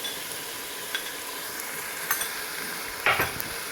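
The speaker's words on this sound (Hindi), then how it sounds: "तो अब जी मैं इसके साथ भूनूंगी चिकन को" Chicken sautéing with crushed ginger in a hot oiled pan, a steady sizzle with occasional scraping stir strokes, the loudest scrape near the end; no talking.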